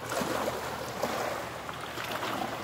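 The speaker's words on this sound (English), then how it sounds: "you're gonna hear the waves crashing here because there's a lot of boats on the water" Water laps and churns against a dock on the Ottawa River in Ontario, stirred by heavy boat traffic; a steady, close wash of waves and surf with faint wind, no voices.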